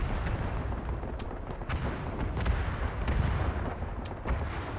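Grenade blasts and rumbling battlefield booms in the WWI shooter Verdun on the Argonne map, a dense continuous roar of distant explosions and gunfire with scattered sharp cracks throughout.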